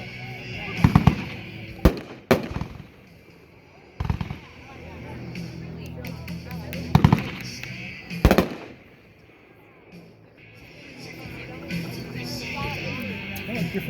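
A World Class Fire and Fury consumer firework goes off at an outdoor demo, firing a series of sharp, loud bursts with crackling between them and people talking in the background.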